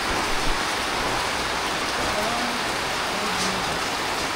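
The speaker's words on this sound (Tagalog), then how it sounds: "Biglang bumuhos ang ulan." A sudden heavy rain downpour roars steadily and loudly, a dense unbroken hiss of water pounding surfaces close by, with faint voices barely audible beneath it.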